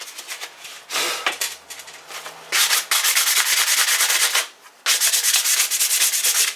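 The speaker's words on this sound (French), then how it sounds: "pas besoin de poncer beaucoup, c'est juste pour rayer le vernis" Wood being sanded to scuff off old varnish: loud, rasping bursts of back-and-forth abrasive strokes that stop briefly and then run in long continuous passes, with no voices.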